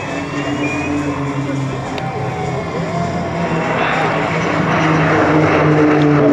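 Grumman S-2T Turbo Firecat turboprop at the La Ferté-Alais air show, a loud droning propeller roar with a whining engine tone that grows steadily as it passes, under an announcer's voice.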